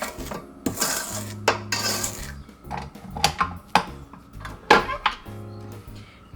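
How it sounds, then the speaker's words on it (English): Spatula scraping the sides of a metal mixing bowl of brown sugar cookie dough, a series of close clanks, taps and scrapes in an uneven rhythm. "let me scrape down the sides again"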